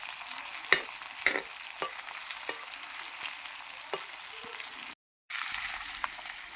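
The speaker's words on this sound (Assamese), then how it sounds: "পিঁয়াজখিনি ভালকৈ লৰাই থাকিব লাগিব।" Onions frying in a pan are stirred for broiler chicken curry, with a steady soft sizzle and several sharp scraping clicks of the spoon against the pan, moderately close and with no voices.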